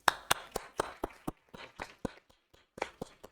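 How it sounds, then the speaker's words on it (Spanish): A small group claps briefly and unevenly after a talk at a meeting with young researchers, a dozen or so sharp, separate claps with short gaps, fairly close and moderately loud, no voices. "le damos un pequeño aplauso de agradecimiento por todas las respuestas que ha dado"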